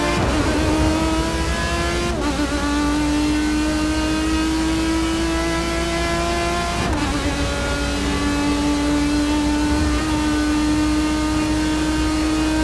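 An Aston Martin race car engine from Forza Motorsport 6 holds a loud, steady high whine, dipping sharply twice at gear shifts before climbing again, with no voices.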